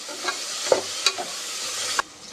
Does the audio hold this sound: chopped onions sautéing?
yes